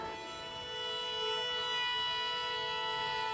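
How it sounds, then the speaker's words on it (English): A single sustained string note rings steadily for a few seconds, sounding soft and even with a bright overtone. "And now Katie, play that B."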